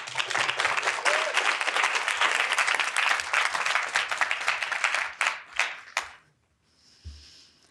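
Dense, loud applause from an audience welcoming a speaker to the stage at a talks event, sustained for about five seconds before thinning into a few scattered claps and a brief quiet.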